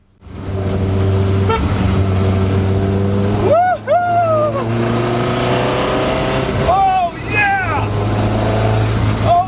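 A vintage Alfa Romeo racing car engine drones steadily while being driven at about 28 mph, loud and close throughout, with a couple of brief rising and falling pitch sweeps as the revs change.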